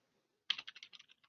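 A computer keyboard is typed on in a quick burst of about ten crisp, close keystrokes over under a second, after near silence.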